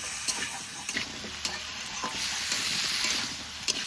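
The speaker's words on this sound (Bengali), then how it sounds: "আলু আর ওল একটু ভেজে নিই" Potato and elephant foot yam frying in a pan, a steady broad sizzle with scattered scrapes and taps of a spatula stirring, close and moderately loud, no voices.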